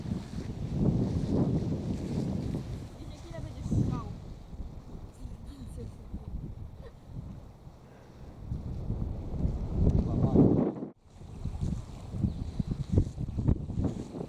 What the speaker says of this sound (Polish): Bardzo mocno wieje.